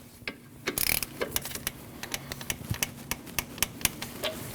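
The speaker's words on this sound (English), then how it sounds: "Now you can reinstall your ABS wire and tighten your bolt." Ratchet wrench tightening the ABS wire bolt on a 2003-2008 Subaru Forester, rapid close clicking in bursts with a brief rattling handling noise near the start.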